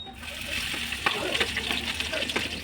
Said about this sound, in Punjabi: ਹੁਣ ਅਸੀਂ ਇਸੇ ਤੇਲ ਦੇ ਵਿੱਚ ਅਦਰਕ ਲਸਣ ਦਾ ਪਹਿਲਾ ਪੇਸਟ ਪਾਵਾਂਗੇ